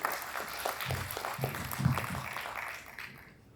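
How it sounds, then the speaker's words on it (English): Audience applause for the MC at a Rotary multi-district conclave: a crowd clapping steadily at moderate distance for about three seconds, then fading out. "Can you all give a round of applause to our MC?"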